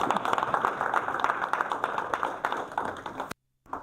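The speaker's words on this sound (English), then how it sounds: "Clap our hands for Anna." An audience at a health economics research seminar gives a burst of dense, steady applause that lasts a few seconds and then cuts off abruptly.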